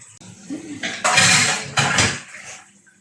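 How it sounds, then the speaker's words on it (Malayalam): A pot is washed in a home kitchen with running water and clattering cookware, two loud bursts of splashing and scraping separated by a short pause, with quieter handling before and after. "ഇതിന്റെ ഇടയിൽ അമ്മ ഈ പാത്രം കഴുകുന്നതാണ്"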